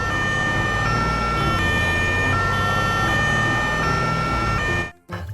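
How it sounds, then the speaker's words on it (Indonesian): A toy ambulance siren wails in a steady repeating electronic pattern, fairly loud and close, running alone before stopping abruptly near the end. "Niu, ambulans, mantul."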